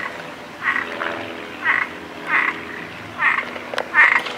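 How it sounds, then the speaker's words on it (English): A frog croaks in a series of short, rasping calls, about six bursts spaced irregularly, fairly close and clear against a low background hum in a resort room. "Is that a frog in there?"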